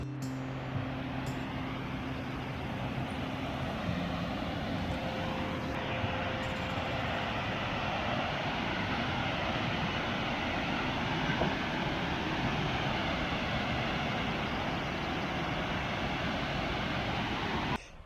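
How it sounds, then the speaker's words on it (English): Rapids and a waterfall on a canoe route in the Boundary Waters wilderness, a steady broadband roar of rushing water holding constant and loud throughout with no pauses, near and unbroken. "But check out these rapids and the falls here."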